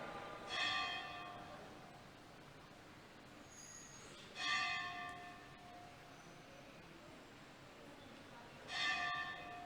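A bell rings three times, evenly spaced with about four seconds between strikes, each a bright metallic clang decaying over a faint, steady background.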